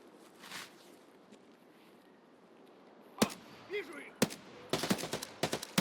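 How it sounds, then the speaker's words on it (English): Gunfire in the video game Escape From Tarkov in a wooded area: sharp single shots then a rapid cluster of cracks, loud against a quiet rustling background, with a voice briefly talking. "my shots are just not hitting him at all"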